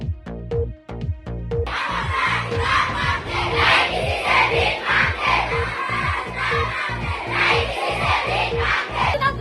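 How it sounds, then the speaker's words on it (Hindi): A crowd of protesters chants slogans against a school transfer that affects girls' education, loud, rhythmic shouted phrases repeating over a steady pulsing beat and filling the space. "मुजाहिरीन ने दाऊद खेड़ी नहीं जाएंगे और ये मनमानी नहीं चलेगी जैसे लगाए नारे"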